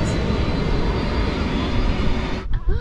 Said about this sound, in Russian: Сейчас так самолет взлетел.